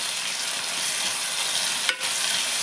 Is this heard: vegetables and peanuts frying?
yes